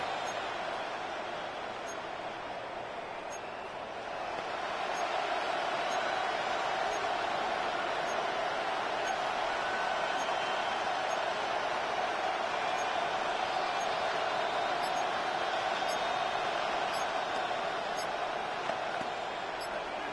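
Football stadium crowd at a Vikings versus Lions game roaring steadily before a third-and-goal play, a broad continuous wash of noise that swells louder after the first few seconds and holds without any talk.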